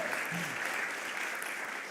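Audience applause fills a masterclass hall with Wes Anderson, a steady, dense clapping from many hands that holds at an even level throughout, with no pauses.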